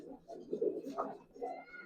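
A Giribaz pigeon, an old-generation breed, coos in a few soft, throaty, rolling phrases close by, with no talk over it.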